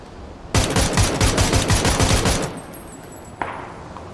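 Gunfire in the video game PUBG Battlegrounds: a loud, rapid automatic burst lasting about two seconds, followed after a pause by a single sharp shot.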